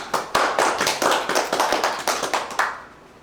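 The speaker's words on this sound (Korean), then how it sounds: "여러분 박수." A short burst of applause from a small group at a Korean mountain marathon federation board meeting, quick irregular claps for about three seconds before fading out.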